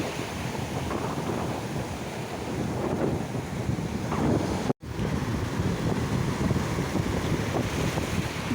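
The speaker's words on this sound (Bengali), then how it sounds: "দেখো কত বড় বড় ঢেউ" Sea waves breaking on the beach at Digha, a steady loud roar of surf mixed with wind buffeting the microphone, with one brief dropout midway.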